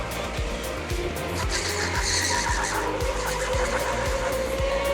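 Go-kart tires squeal and skid on the K1 Speed Colorado track as a small engine drones steadily close by, the screech rising and falling over the run.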